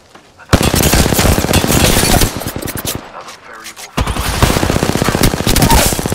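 Rapid automatic gunfire in a tactical shooter video game, loud and dense, in two long bursts split by a short lull, with the second burst starting abruptly and running to the end.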